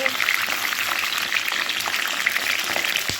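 Stuffed capsicums filled with potato sizzle steadily in a frying pan, a fork occasionally scraping as they are gently turned; the frying hiss stays close and continuous throughout.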